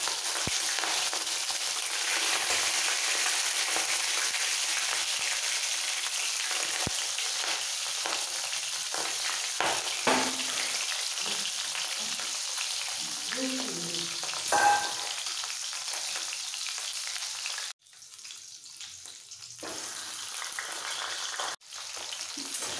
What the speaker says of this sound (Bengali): এবার নুন হলুদ দিয়ে মাখানো মাছগুলো ছেড়ে দিচ্ছি